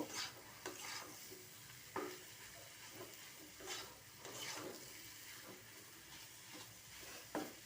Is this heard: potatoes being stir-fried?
yes